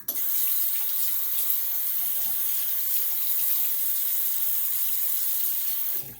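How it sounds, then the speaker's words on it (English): A water tap runs steadily into a sink while a razor is rinsed under it, a constant close hiss that cuts off abruptly at the end. "Let me rinse off here."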